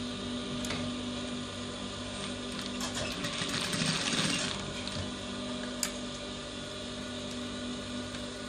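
Sewing machine stitching trouser belt loops, a steady continuous mechanical whir with rapid needle chatter and a few faint clicks, close and fairly loud throughout, no talking.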